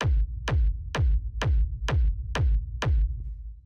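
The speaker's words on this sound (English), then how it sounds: "the first sound we have here is the kick" Dark techno rumble kick, a deep booming thud repeating steadily about every half second, seven hits with a low rumbling tail between them, loud and alone.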